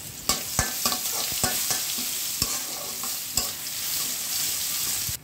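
Crushed garlic frying with cumin seeds and bay leaf in hot oil in a kadai, a constant close sizzle broken by repeated sharp scrapes and taps of a spatula stirring the pan, with no talking.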